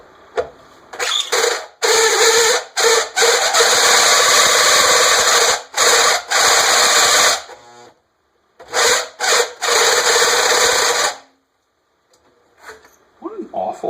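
Power drill boring into a metal generator exhaust pipe with an unsuitable bit, loud grinding bursts that stop and start repeatedly, with short pauses between runs and a brief quiet stretch at the end.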